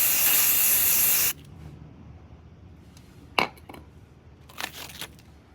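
Spray paint hisses from a can onto faded outdoor cushions in one loud, close burst lasting just over a second. A few quieter rustles and clicks follow in a near-silent room.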